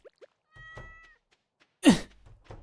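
A cat in the Stardew Valley video game gives a single clear, fairly loud meow that follows soft game chimes and small interface blips.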